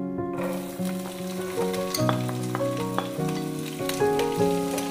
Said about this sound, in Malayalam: ഇത് നന്നായിട്ടൊന്ന് വഴറ്റി കൊടുക്കണം